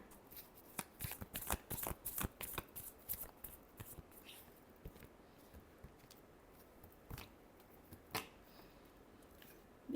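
Tarot cards shuffled by hand during a love reading, giving bursts of crisp riffling flutters that cluster early, then thin out into a few isolated snaps and shuffles, close and fairly quiet with no talking.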